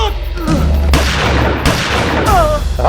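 Gunshots fired during a police shootout in a Maharashtra crime drama, several loud sharp reports in quick succession amid a noisy scene, with brief shouting between bursts.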